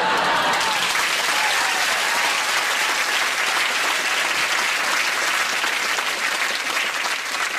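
A comedy club audience claps steadily and loudly throughout, a dense sustained wash of applause from a large crowd with no break or talk over it.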